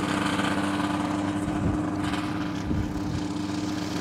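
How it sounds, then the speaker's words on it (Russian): A light aircraft's small two-stroke engine drones steadily at a near, even pitch while taxiing out for takeoff, with a couple of faint thumps. "Выруливает на взлет"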